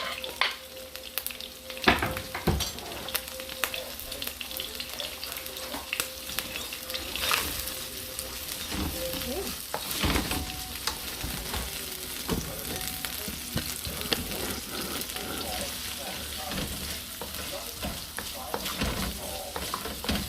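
Chicken and shrimp stir-frying in a pan, a continuous close sizzle broken by repeated scrapes and stirs, with occasional brief speech.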